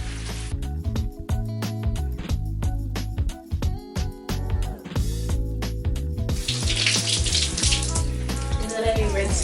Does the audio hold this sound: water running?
yes